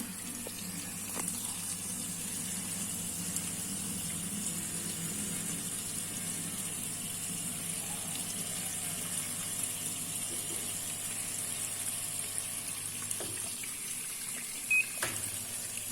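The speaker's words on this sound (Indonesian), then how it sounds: "Filling water untuk ini kita isi air lagi ya. Untuk proses bilas yang kedua kalinya." An Arduino-controlled homemade automatic washing machine filling with water for its second rinse: a steady, even rush of running water with a low pump-like hum, continuous and fairly close, with a few faint clicks.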